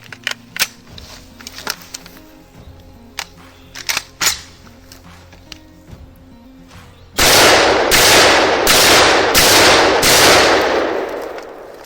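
A Kalashnikov AKM rifle fires 7.62 mm rounds outdoors, a rapid string of about five loud, sharp shots after scattered clicks and handling noises.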